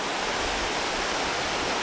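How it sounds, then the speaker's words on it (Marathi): Paleshwar waterfall, a clear-water fall at a littered site strewn with plastic bottles, giving a steady broadband roar of falling water, loud and continuous without any voices. "एवढा भारी धबधबा एवढा निसर्गानं दिलेला क्रिस्टल क्लिअर"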